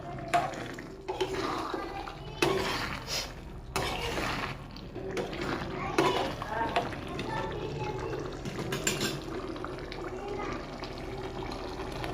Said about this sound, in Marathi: आता आपण बोंबील हलवून घेऊ आस्ती आस्ती हलवाचे असतात